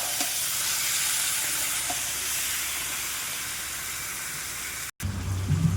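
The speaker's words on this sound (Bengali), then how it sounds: "এবার ভালো করে নেড়ে চেড়ে দিয়ে দেবো মাংস" Chicken pieces sizzling and frying in a pan while being stirred, a steady loud hiss throughout with faint scraping, a brief cut near the end followed by louder bubbling.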